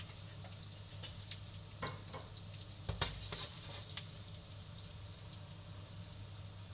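Tuna searing in olive oil in a pan, a soft steady sizzle with faint crackles and a couple of brief clinks near the middle, quiet and continuous over a low background hum.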